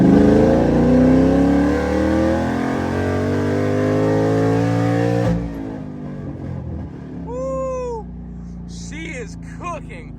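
A Ford Mustang S197 fitted with a Gen 3 Coyote V8 engine revs hard while accelerating in third gear. The engine roar is loud and close for about five seconds, then cuts off abruptly, and faint voices and exclamations follow.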